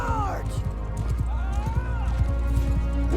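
Rapid hoofbeats of a galloping horse in the game Bannerlord pound under loud battle noise, with someone talking over them throughout.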